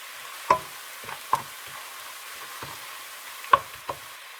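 Garlic sautés quietly in a pan while cooking Khmer rice porridge, a faint low sizzle broken by several sharp spatula knocks and scrapes spaced irregularly.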